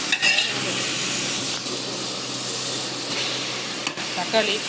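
Vegetables sautéing in a pan for a home-cooked seeraga samba biryani, a steady close sizzle and hiss with faint stirring scrapes running throughout, alongside some background voices.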